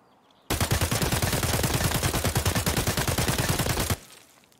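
An AK rifle fires full-auto in Escape From Tarkov, a loud, rapid, even burst of shots lasting about three and a half seconds before cutting off into quiet.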